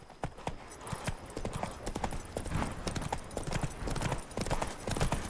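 A horse gallops in The Witcher 3: Wild Hunt, its rapid, close hoofbeats drumming in an uneven rhythm with faint ambient game sound behind.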